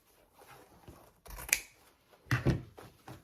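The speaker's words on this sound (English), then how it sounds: "now I can cut that" Scissors cutting ribbon while making a Christmas bow: faint rustling and handling, then two distinct close snips about a second apart.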